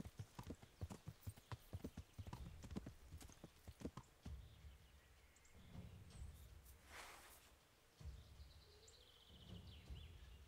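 Horse hooves clip-clop steadily in the Kingdom Come: Deliverance video game, a brisk rhythmic trot close by, with faint bird calls and a brief whinny in the quieter later stretch.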